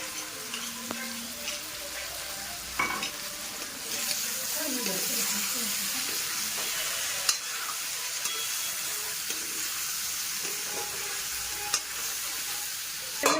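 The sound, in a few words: stirring meat and potatoes frying in oil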